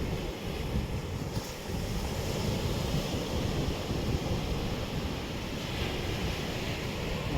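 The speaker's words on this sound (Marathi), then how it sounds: "मस्त समुद्राच्या लाटा येत आहेत" Steady roar of sea waves washing onto a beach at Vengurla, India, constant and fairly loud, with wind buffeting the microphone throughout.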